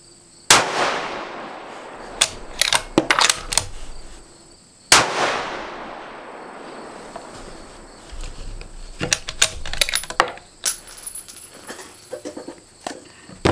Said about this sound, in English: So we're going to put some rounds down range after it's warmed up